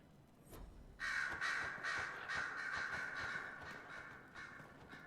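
Several crows caw in the game Dragon Age Inquisition, a run of loud, harsh calls starting after a brief quiet moment and repeating steadily, close and clear, with no one talking.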